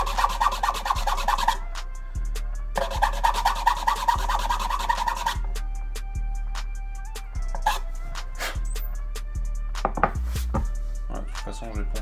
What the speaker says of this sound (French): On va reponcer un petit peu juste les bouts que j'ai coupés, là, on va les poncer légèrement